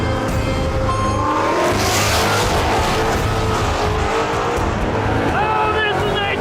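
A custom Ford Mustang accelerates hard on nitrous, a loud, continuous engine roar with rising revs and some tire squeal, while excited voices shout over it.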